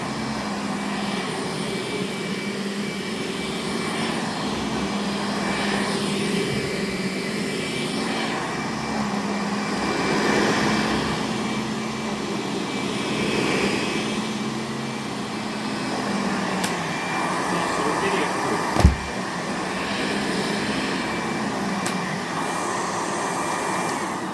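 A vacuum cleaner runs at a reduced, quieter level, giving a steady, even motor whir with airy rushing noise throughout and one brief knock near the end.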